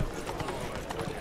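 Horse hooves clip-clop in The Witcher 3 game, a faint, steady run of soft hoofbeats under low background ambience.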